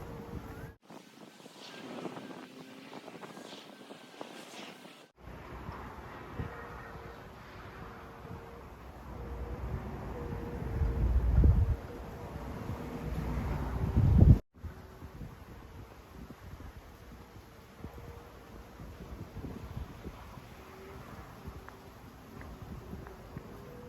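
Wind gusts steadily outdoors while a kite is flown, buffeting the microphone with rumbling bursts that swell and ease across the whole stretch, broken by a few abrupt cuts.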